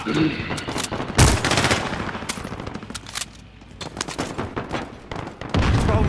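Gunfire in the video game Call of Duty: Modern Warfare: loud, close bursts of automatic fire and single shots rattle in uneven clusters, with a brief lull before the heavy shooting picks up again.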